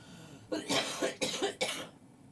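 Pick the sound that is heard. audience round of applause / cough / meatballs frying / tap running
cough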